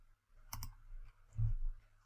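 Typing on a computer keyboard: a couple of quick, crisp key clicks and then a soft thud, close and quiet in a hushed room with no voices.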